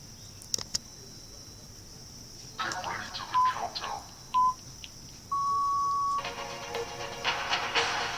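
Countdown timer running during a quiz: two short electronic beeps about a second apart, then one longer beep, mixed with bursts of noisy rattling sound effects.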